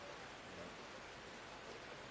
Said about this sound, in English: The rain's quite heavy now